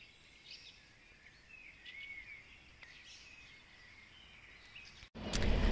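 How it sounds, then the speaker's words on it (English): Birds sing faintly in the countryside at sunrise, with scattered chirps and whistled phrases over a quiet background, and a sudden loud noise cuts in near the end. "Can you hear the birds singing?"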